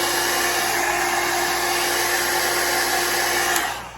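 A hair dryer blows steadily on alcohol ink art, a loud continuous close whir with a constant tone that holds for about four seconds before easing slightly at the end.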